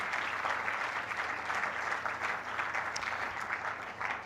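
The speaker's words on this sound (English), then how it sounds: "So why not give yourself a round of applause once again?" Audience applause at a tech conference morning session in Port Harcourt, a full room clapping continuously and evenly throughout, bright and sustained with no talk over it.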